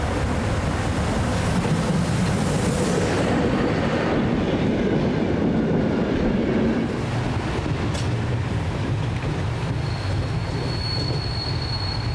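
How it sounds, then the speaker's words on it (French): A heavy freight train on the Causses line in France rumbles past close by, wheels grinding and squealing on the rails, a loud continuous roar that eases slightly near the end. "Chaque jour, 8 à 10 trains comme celui-ci se présentent au poste de rebroussement de Michalstein"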